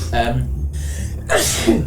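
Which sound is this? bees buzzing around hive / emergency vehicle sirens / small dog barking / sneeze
sneeze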